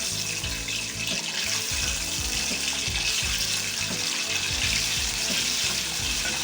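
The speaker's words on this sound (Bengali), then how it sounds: "এখন আমি কড়াইয়ে তেল দিয়ে দিয়েছি, সামান্য হলুদ দিয়ে আমি 3টা ডিম আগে একটু ভেজে নেব।" Three eggs with a little turmeric fry in oil in a wok, a loud continuous hissing sizzle with a watery, rushing texture and faint low clatter underneath.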